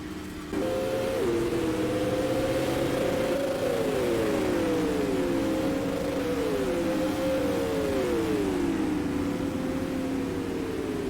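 Onboard sound from the cockpit of a winged supermodified race car at Oswego Speedway, a loud, continuous engine drone that rises and falls in pitch over and over as the car accelerates down the straights and backs off through the turns.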